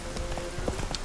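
A horse's hooves clip-clop in The Witcher 3: Wild Hunt, a quick irregular patter of hoof beats over a steady game background, with brief voice-like sounds mixed in.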